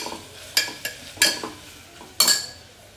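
Metal utensils clink against pots and a spoon stirs in a home kitchen, with sharp separate knocks spaced irregularly over a soft background sizzle, close and moderately loud.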